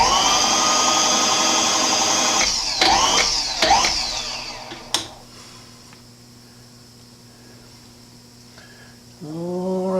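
A milling machine cuts threads into a Bendix master cylinder being converted to Mustang Boss 429 specs. A loud steady machining whine with sharp metallic transients fades to a quieter spindle hum, then a fresh rise of motor sound near the end.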